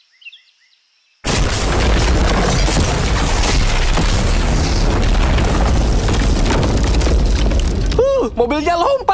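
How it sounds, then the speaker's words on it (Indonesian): A massive blast blowing up a car: the explosion erupts suddenly after near silence, then a loud, sustained roar of debris and rumble fills the scene before voices break in at the end. "Mobilnya selamat dari ledakan hanya dengan beberapa goresan kecil."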